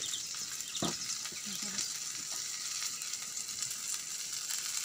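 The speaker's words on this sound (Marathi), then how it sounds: "हे बघा मासे व्यवस्थित भाजतात" Pomfret fish frying in a pan in a Malvani home kitchen, a steady broadband sizzle and crackle running throughout, close and moderately loud, with a brief knock or stir partway through.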